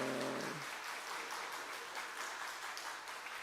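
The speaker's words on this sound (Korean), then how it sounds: "박수 해주세요" A church congregation applauds during a Korean Good Friday worship service: steady, dense clapping that fills the room and carries on evenly after a brief sustained tone at the start.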